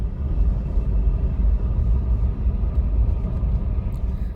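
A car drives slowly around a remote desert campsite, its engine a steady low rumble that holds at the same level throughout, close and continuous with no voices.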